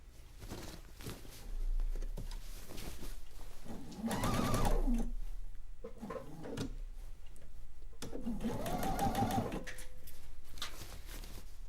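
A sewing machine stitches quilt seams in short runs, with two louder bursts of stitching separated by quieter handling noises and pauses, fairly close and with no talking.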